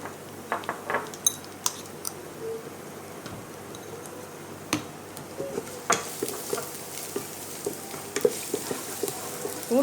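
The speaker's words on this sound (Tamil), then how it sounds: "பூண்டு போட்டு ரொம்ப நேரம்லாம் வதக்கணும்" Garlic for chilli chicken sautés in a pan with a faint, steady sizzle, broken by scattered clicks and taps of a utensil stirring against the metal.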